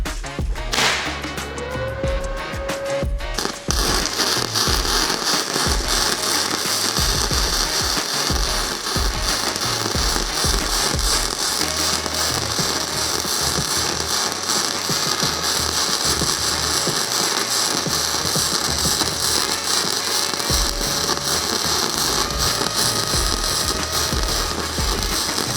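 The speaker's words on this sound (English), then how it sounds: "Now we just protect ourselves and we can actually do some welding." An ArcCaptain 200 welder runs a continuous arc weld, producing a loud, steady crackling sizzle that persists for over twenty seconds after a brief clatter of setup sounds at the start.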